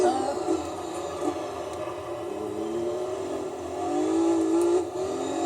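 Renault Clio race car accelerating in Gran Turismo 3, a steady engine drone that climbs and falls in pitch through gear changes, loud and continuous with no talk.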